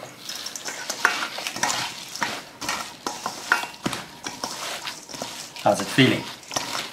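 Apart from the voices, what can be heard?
mixing vegan burger patty mixture with crumbs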